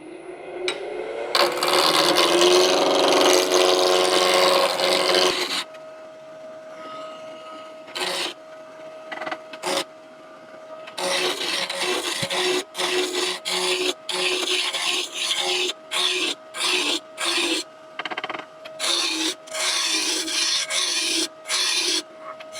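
Square walnut blank spinning on a wood lathe as a tool cuts it into a bottle opener handle, loud continuous rasping and scraping at first, then a steady motor hum broken by repeated short bursts of cutting.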